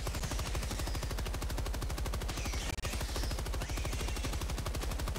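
Sustained automatic gunfire from Helldivers 2 rattles in a fast, steady stream of shots, loud and close, with no break except one brief gap.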